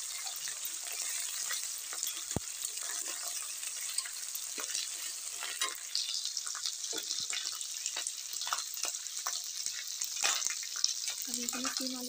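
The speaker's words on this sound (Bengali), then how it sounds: "আদা রসুনের পেস্টটা দিয়ে ভালো করে লাল লাল করে ভেজে নেব।" Ginger garlic paste fries in a pan with a steady, soft sizzle and occasional stirring scrapes, quiet and close throughout.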